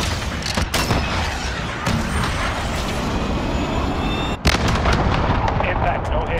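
A video game cruise missile launches and strikes, heard as a loud, sustained roar and booming rumble that continues throughout, with a sharp crack partway through and the roar building again afterward.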